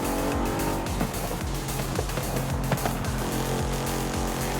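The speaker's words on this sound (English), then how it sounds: "Oh, listen to that popping." A race car's engine roars steadily in Forza Horizon 5, loud and close, with exhaust pops and crackles cutting through the continuous drone.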